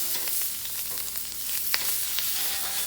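Lobster sizzling on a hot Blackstone griddle turned down low, giving a steady hissing crackle throughout with a few scattered sharper pops and spatters.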